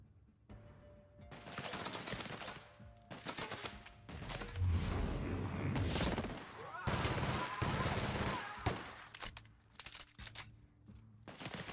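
Gunfire in The Outer Worlds, repeated bursts of sharp shots and rattling volleys, loud and close, broken by short pauses, with someone speaking between them.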